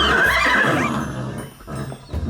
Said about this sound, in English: That's just a horse neighing